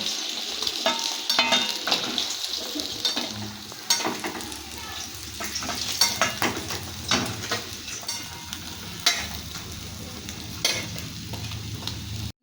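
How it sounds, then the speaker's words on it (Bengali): Cumin seeds temper in hot oil in a pan, producing a steady close sizzle with crackling pops and repeated stirring scrapes throughout. "জিরে ফোড়ন দিয়ে দিচ্ছি"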